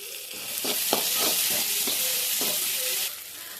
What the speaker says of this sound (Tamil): பெரிய வெங்காயம் போட்டு நல்லா வதக்கிடலாம்